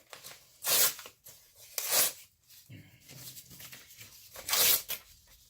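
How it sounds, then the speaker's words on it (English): Sheets of paper being torn by hand into pieces of different sizes, heard as three loud ripping bursts with quieter handling and rustling in between, close up. "I'm just going to start tearing some paper here."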